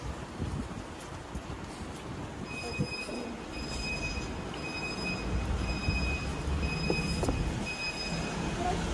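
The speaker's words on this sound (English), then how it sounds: "So here is railway station we came." A train moves through a railway station in Budapest, its wheels squealing in steady high tones over a low rumble of rolling railcars, heard fairly close with no talk.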